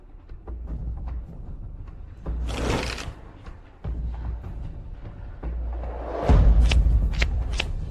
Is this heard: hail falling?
no